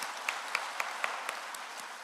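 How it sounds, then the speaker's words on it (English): A small university event audience claps for staff and students, a faint, sparse patter of separate hand claps in a fairly quiet room, steady through the moment. "let's clap for the staff and the students"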